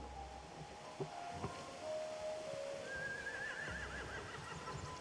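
A horse whinnies in The Walking Dead Telltale game near a boat, with a wavering neigh rising over a quiet outdoor background and a few soft knocks and hoof-like taps.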